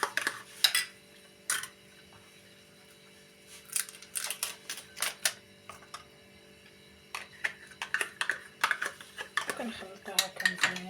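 Stirring milk into a mixture in a bowl, with a utensil clinking and scraping against the bowl in irregular bursts of close, moderately loud knocks separated by quieter pauses.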